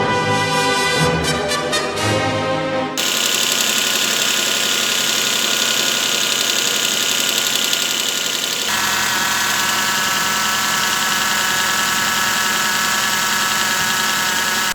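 A Suzuki Swift Sport, a small city car with a big engine driven on a circuit, runs with a loud, steady engine drone that shifts in tone partway through and holds throughout without speech.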